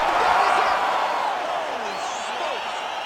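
A loud arena crowd roaring and cheering as a UFC fight ends in a Silva vs Pereira bout, a sustained wash of noise with a commentator talking over it.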